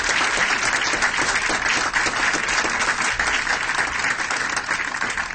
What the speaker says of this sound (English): let's give all these great young athletes, scholars, a great round of applause